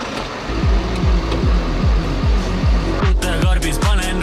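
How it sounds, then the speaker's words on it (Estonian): A tractor engine being warmed up before ploughing chugs in a loud, steady, low rhythm of about two beats per second, close by, with a rattling burst near the end. "Panen traktori sooja, lähme kündma."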